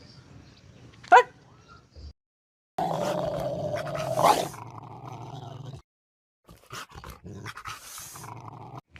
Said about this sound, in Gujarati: આ કૂતરું ગામમાં નવીન ક્યાંથી આવ્યું